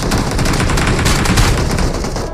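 Continuous automatic gunfire in the mobile battle-royale game BGMI: rapid, loud, close shots that run unbroken for a couple of seconds.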